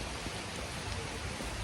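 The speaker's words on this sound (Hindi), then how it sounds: "लेकिन बारिश की स्पीड और मौसम जैसा कि आप देख रहे हैं, इसको देखते हुए लगता नहीं है कि ये ज़्यादा देर बरसेगा" Rain falling outside, a steady, even hiss of drops on surfaces, close and continuous with no talking.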